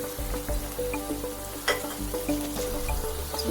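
Oil sizzles and crackles steadily in a hot pan while cooking chicken changezi, a constant frying hiss with small pops.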